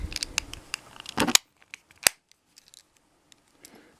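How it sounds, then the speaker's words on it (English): A Toyota RAV4 key fob's plastic case is pressed shut, with a burst of close scraping and fiddling followed by a couple of sharp, isolated clicks in an otherwise quiet room. "And then click it all shut."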